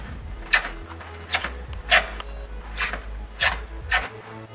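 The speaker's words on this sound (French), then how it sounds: "Comme vous pouvez entendre, j'ai un écureuil qui gratte mon isolation." A squirrel scratches at insulation in the roof space above a soffit, giving a series of sharp, papery scraping bursts spaced about a second apart, moderately close, over a low steady hum.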